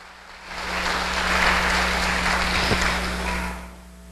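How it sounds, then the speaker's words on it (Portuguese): A church congregation applauds in a steady, dense wash of clapping that swells and then fades out, with a low electrical hum running underneath. "Vamos aplaudir o Senhor."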